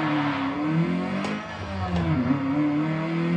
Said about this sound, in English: You rev it up and then drop the clutch.